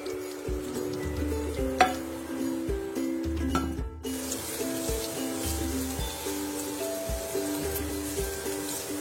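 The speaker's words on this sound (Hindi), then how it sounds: "ये देखिए, प्याज भी हल्की हल्की फ्राई होने लगी है।" Finely chopped onion fries with curry leaves in a pan, giving a soft, continuous sizzle with occasional crackles and light stirring, heard alongside a faint, steady tonal background.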